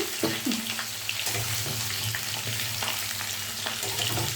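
Raw jackfruit frying in a pan with onions, a constant hissing sizzle with occasional stirring scrapes, a low hum beneath, no voice.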